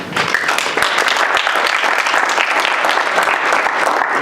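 A lecture audience gives a loud, dense burst of applause welcoming a visiting professor, with many hands clapping steadily throughout.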